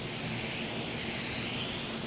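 A Harbor Freight Black Widow 2.0 spray gun lays down a first coat of paint, giving a steady, close, broadband hiss of atomized spray that runs unbroken for the whole stretch with a slight swell near the end.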